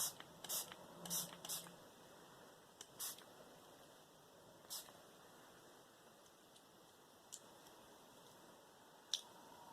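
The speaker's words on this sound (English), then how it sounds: "then I put some water in this spray bottle." Several quick hissing spritzes of water from a spray bottle, a few in rapid succession then scattered bursts, quiet and close in a still room.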